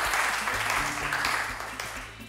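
Studio audience applauding a game-show contestant who has just won 40,000 francs, a full burst of clapping that slowly fades toward the end, with a low hum underneath.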